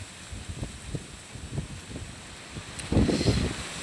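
Strong wind with an approaching rainstorm and lightning buffets the microphone in low rumbling gusts, swelling louder toward the end, with a faint rustle behind it.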